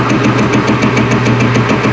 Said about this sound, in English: Instead of trying to grind it with the grinder, I'm just going to take the lathe